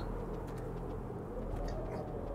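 Birds in the zombie survival game 7 Days to Die give faint, low cooing calls over a steady droning in-game ambience, with no talk.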